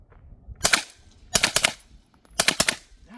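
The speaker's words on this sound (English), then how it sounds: "There's like this long delay between pulling the trigger and this interesting spring." A Steyr AUG MP88 9mm clone fires three quick bursts of rapid, close shots separated by short pauses, each burst sounding sharp but fairly subdued.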